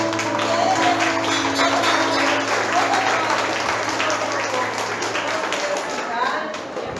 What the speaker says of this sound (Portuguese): Aplaudamos ao Senhor